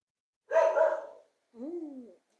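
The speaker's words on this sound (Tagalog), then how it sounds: "Aso namin makulit." A dog barks once near the microphone, a rough burst followed after a short pause by a higher, drawn-out yelp or whine, with silence between and no talking.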